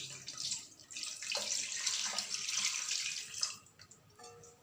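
Water pours steadily into a pot of Odia mutton curry spiced with cinnamon, a continuous close splashing stream lasting several seconds before tapering off with a few clinks.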